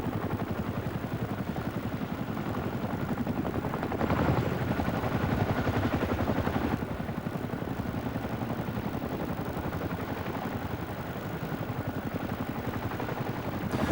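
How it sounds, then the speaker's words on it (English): A Chinook twin-rotor military helicopter performs at an outdoor air display, producing a continuous heavy rotor thudding and engine roar that swells briefly in loudness, heard from a distance without speech. "the next thing seems to be to throw this 15-odd tons of helicopter at the ground again"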